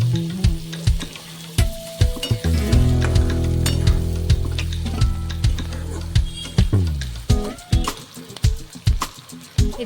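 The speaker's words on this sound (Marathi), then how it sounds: "कांद्याला छानसा गोल्डन कलर येईपर्यंत आपल्याला तेलात भाजून घ्यायचा आहे." Chopped onion sizzles and fries in hot oil in a pan, a loud, close, continuous crackle broken by repeated scraping and stirring clatters of a spoon against the pan.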